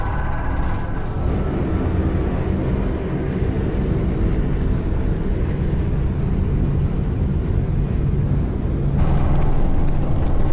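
A passenger plane's engines roar in a loud, continuous cabin drone with a steady high whine, holding evenly and swelling slightly at the end, with no voices.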